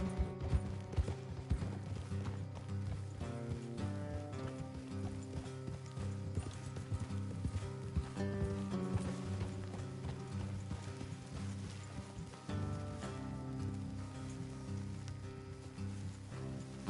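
Horse hooves clip-clop steadily at a walking pace under a layer of music, with a faint rattle of tack throughout.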